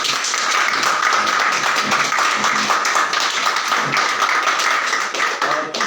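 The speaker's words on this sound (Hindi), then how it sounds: "खड़े होकर एक बार जोरदार ताली" A business meeting audience claps loudly and steadily, dense broadband applause filling the room for several seconds with no talk over it.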